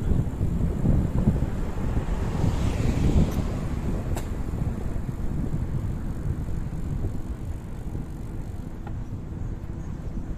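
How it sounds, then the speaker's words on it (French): Strong wind buffeting the microphone during a mountain bike descent near Perpignan and Cerbère, a continuous loud, rumbling roar with a few faint clicks and no break. "The wind is strong."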